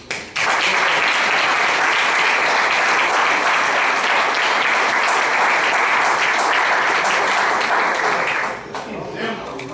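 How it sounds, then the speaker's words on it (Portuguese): Sustained applause from an audience at a tribute evening honouring a priest, dense and steady for about eight seconds before tapering off near the end. "o grande aplauso da noite"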